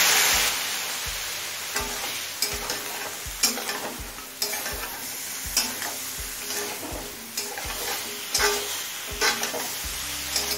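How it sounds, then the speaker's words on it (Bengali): Spiced mixed vegetables for a fish-head curry sizzling loudly in a pan after a splash of water, with a regular rhythm of spatula strokes scraping and stirring throughout, no talk. "এবার মশলার বাটিটা দিয়ে অল্প পরিমাণে জল দিয়ে দিলাম"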